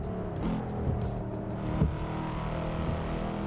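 Car engine droning steadily in the Assetto Corsa racing game on the Shuto Revival Project track, a continuous mid-level hum with a brief surge near the middle and no voices.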